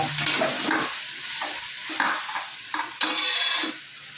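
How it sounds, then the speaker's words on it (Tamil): Half a kilo of chicken fries and sizzles in a pan for chicken biryani, a bright steady hiss broken by several stirring scrapes and clanks, close and with no voices. "இப்போ வந்து சிக்கன் போட்டிருக்கேன் இது அரை கிலோ சிக்கனு"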